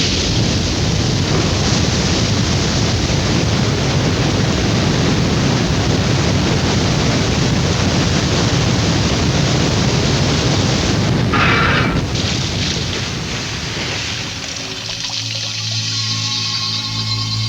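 Water poured over a car freshly coated in Rain Dance car wax, a loud steady rushing torrent that runs for most of the stretch, then eases and gives way to a soft musical tone near the end.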